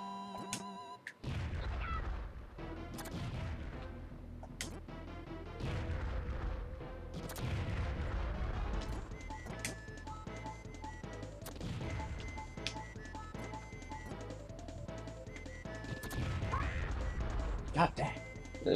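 Bombs burst one after another in the Super Bomberman 5 video game, with sharp crashing blasts and booms over looping game music, and a voice is sometimes heard.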